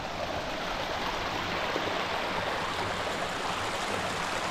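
Water of a stream flowing steadily near a stone house in Fethiye, a constant close rushing wash with no break and no voices.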